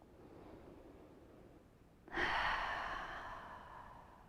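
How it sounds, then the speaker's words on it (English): A single slow, audible yoga breath of the throat-constricted Ujjayi kind, drawn in close and steady after a quiet start and gradually easing off, with no talking over it. "Turning on that Ujjayi breath if you like it, or maybe it's still turned on."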